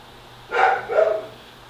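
A dog named Remy lets out two short, fairly close barks in quick succession, with quiet room tone before and after.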